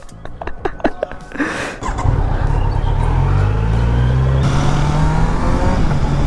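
A Kawasaki Z900 superbike rides on an open road, its engine building from a rising rev into a loud, sustained, droning roar with a steady low tone, while a few faint voices come early before the engine takes over.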